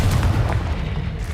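A Confringo blasting spell goes off in Hogwarts Legacy, a heavy, low booming explosion that rolls out loud and close and then decays without pause over about a second.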